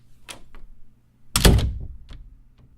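Heavy door being shut, a single solid thunk with a brief rattle, preceded and followed by faint clicks from a heavy knob, close and dry in a quiet room.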